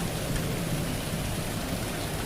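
Steady, dense rain pours without a break as a sound effect in an audio drama, a loud even wash of falling water with no voices over it.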